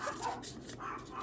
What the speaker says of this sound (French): Mes chiens jappent, ça vaut la peine.